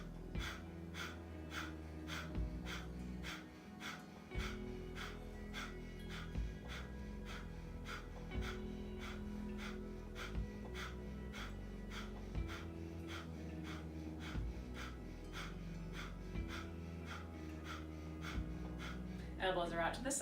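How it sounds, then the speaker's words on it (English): Breath of fire in a Kundalini yoga kriya for the adrenals and kidneys: rapid, evenly spaced, forceful nasal breaths pump in a steady rhythm, close up, over a soft droning music bed. "Long, deep breaths, or begin breath of fire."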